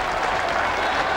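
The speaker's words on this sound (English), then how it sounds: "He'll get a warm round of applause" Warm applause from a crowd at a 1996 Australian football match between Port Adelaide and Glenelg as David Brown leaves the field; dense, steady clapping that fills the whole moment, with no pause or break.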